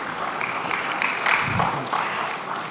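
Audience applause at the AGE Lagos 2025 event, a sustained wash of many hands clapping at moderate distance, steady throughout with slight swells.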